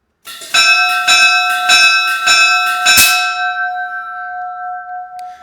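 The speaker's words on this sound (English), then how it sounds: "So that's the bell." An air-powered bell, sounded by pulling a valve, rings repeatedly in a steady rhythm, about five close clangs, then its tone rings on and slowly fades.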